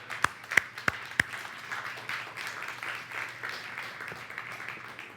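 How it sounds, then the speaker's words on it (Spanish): A few sharp, separate hand claps ring out at a church worship service, then give way to a soft, quiet wash of scattered applause under a low hum. "Den un aplauso"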